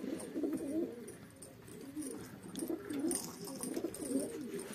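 Pigeons coo in low, rolling phrases that repeat several times, close by, with faint rustling in the background.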